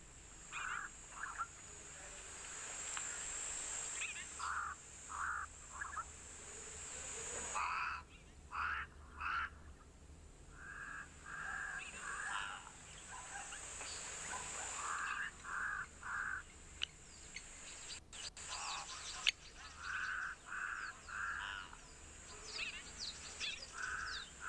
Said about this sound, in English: As I say that about the crows, they do kind of pick up again